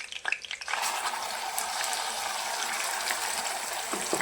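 Masala sizzles and crackles steadily in hot oil in a pan, cooking for a spicy brinjal dish; a brief stir opens the clip before the frying hiss settles into a constant, close, fairly loud sputter.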